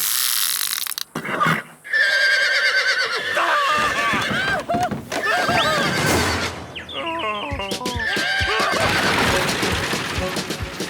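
Horses neigh and whinny loudly several times amid clattering hooves and scraping, crashing noises, with shouting voices mixed in.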